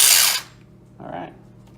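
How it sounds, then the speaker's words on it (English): Drill-motor-powered custom RC car converted from nitro to electric, a loud high-pitched whining burst of under half a second, then a fainter second whir about a second later, over a low background hum. "it's a drill-powered car"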